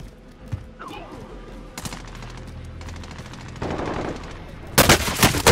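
Rapid automatic gunfire in a Call of Duty Modern Warfare zombies match, sustained bursts with sharp louder shots near the end, heard alone without talk.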